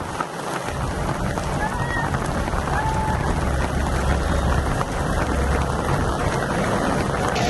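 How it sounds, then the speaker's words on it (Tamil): Heavy rain pours steadily over highway workers laying a fresh tar road in Karnal, a dense, continuous hiss with a low rumble underneath, loud and unbroken throughout. "கர்னால் பகுதியில் கொட்டும் மழையிலும் நெடுஞ்சாலைத்துறை ஊழியர்கள் சாலை அமைக்கும் பணியில் ஈடுபட்டிருக்கும் காட்சிகள்"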